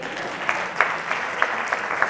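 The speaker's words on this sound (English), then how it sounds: "Everybody give Joel a hand clap." Light applause from a small audience, a steady patter of clapping with a few sharper claps standing out, lasting about two seconds.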